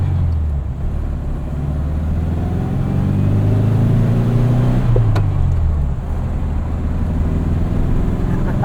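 A modified 1966 Volkswagen Beetle engine drones steadily while driving, a loud low air-cooled hum that rises and falls in pitch as it revs, heard from inside the car with no talking.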